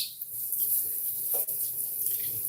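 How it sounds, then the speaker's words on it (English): A kitchen tap runs steadily over freshly picked garden basil being rinsed, a close, continuous hiss of water with a small splash partway through and no talking. "So I'm just going to give it a rinse because it was outside."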